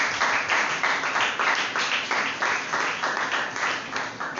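Church congregation applauding during a sermon, steady dense clapping that carries on throughout at a fairly loud level, with some voices mixed in.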